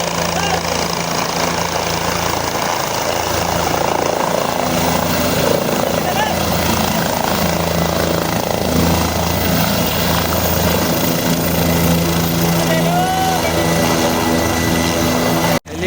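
A helicopter at the Kedarnath helipad roars loudly and continuously nearby, a constant engine and rotor drone that holds for the whole stretch before cutting off abruptly.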